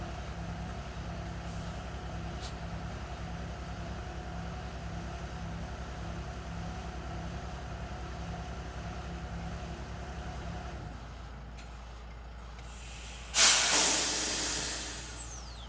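A heavy truck idles with a steady low diesel rumble, goes briefly quieter, then lets out a loud, sharp burst of air-brake hiss that trails off as it settles into place.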